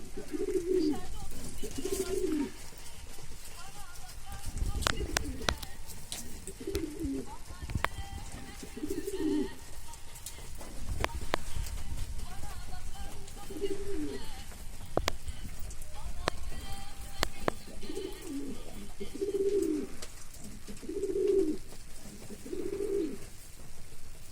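Breeding pigeons cooing in a loft, repeated low throaty coos in short bursts across the whole stretch, fairly close, over steady background noise and a faint voice.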